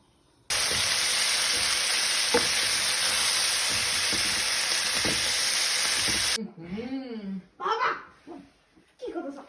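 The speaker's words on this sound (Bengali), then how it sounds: "ফুলকপি আর আলুটা আজকে ঝোল ঝোল করে রান্না করছি।" Cauliflower and potato cooking in a pan for a vegetarian lunch, giving a loud, steady sizzle that runs for about six seconds and then stops abruptly, followed by voices talking.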